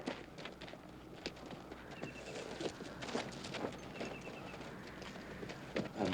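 Horses walking on a Western frontier trail, hooves clip-clopping in a steady, unhurried rhythm at moderate distance over an outdoor background.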